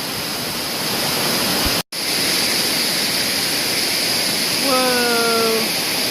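Steady broadband roar of Amicalola Falls waterfall, loud and continuous, with a brief dropout near the two-second mark and a short whistle-like tone near the end.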